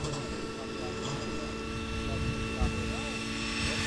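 Radio-controlled model helicopter flying an F3C competition schedule, its steady rotor and engine whine held at a constant distance throughout, with someone narrating over it.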